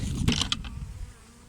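Honeybees buzz close by at a hive during spring cleaning of the hive, a short burst of insect droning with a couple of louder passes before it eases off.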